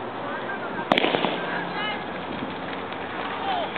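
A single starting pistol shot cracks at the start of an outdoor 800m race, heard at a distance amid crowd noise and talking, followed by scattered sharp pops.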